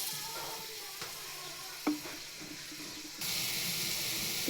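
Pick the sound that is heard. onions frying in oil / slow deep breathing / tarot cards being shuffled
onions frying in oil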